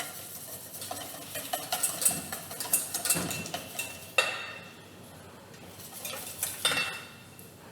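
Whisk stirring and clinking against a bowl for French cuisine, a steady rhythmic scraping and tapping close by with brief pauses, no talking.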